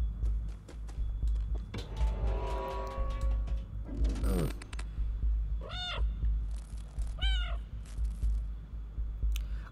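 A cat in the video game Stray meows several times, rising and falling cries with a drawn-out caterwaul, over a low rumbling background and scattered electronic chirps.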